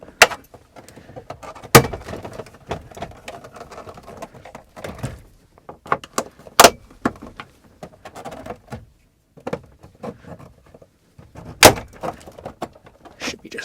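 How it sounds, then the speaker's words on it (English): Metal trim clips snap and pop free as a dash panel is pried off a GM truck, giving sharp, loud cracks at irregular intervals with quieter plastic creaks and rustling between them. "it's going to make some sounds that make you think, oh my gosh, I'm breaking it, but it's just the sound of these metal clips"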